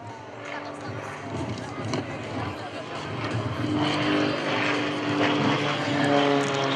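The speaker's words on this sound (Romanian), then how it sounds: "S-a conturat și mai bine prin fumul pe care îl lasă avionul Skybolt." A Skybolt aerobatic biplane trailing smoke performs at an air show, its engine droning steadily and growing louder over several seconds while an announcer talks over it.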